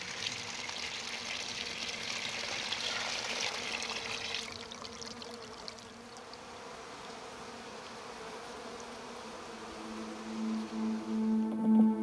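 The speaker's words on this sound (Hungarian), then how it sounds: "Az itatójukba elegendő langyos vizet töltök." Lukewarm water poured into a beehive waterer, a broad splashing pour over the first few seconds, then steadier trickling with bees buzzing nearby.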